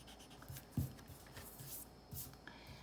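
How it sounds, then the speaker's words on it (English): A pencil eraser rubs on drawing paper in short, faint strokes, with a few soft scrubbing bursts and light taps in a quiet room. "so now I said we were going to be erasing a lot of the shape, so here we go. Erase, erase."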